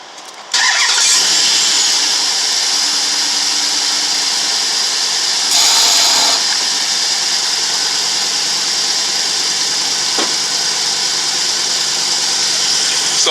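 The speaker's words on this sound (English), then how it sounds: "So the compressor's partially engaged in here." Car engine running with its A/C compressor clutch only partially engaged, a loud steady drone with a rattling edge that carries on unbroken, briefly swelling once midway, with no one speaking.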